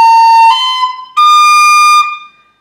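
Tin whistle playing the opening notes of section 3 of the Irish tune "Scatter the Mud" (Scaip An Puiteach): a few clear, bright sustained notes, loud and close, with no accompaniment.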